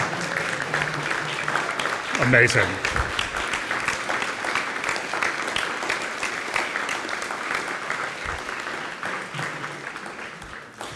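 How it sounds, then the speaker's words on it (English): Audience applauding graduating seniors and grad students standing at a university senior breakfast, a steady wash of clapping that swells briefly near the start, with a voice speaking over it. "Let's clap for them."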